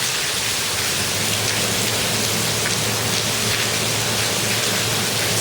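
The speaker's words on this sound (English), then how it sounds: "if you can hear the rain outside" Heavy rain pours steadily outside on a cold, windy night, a dense, loud and unbroken wash with no voices over it.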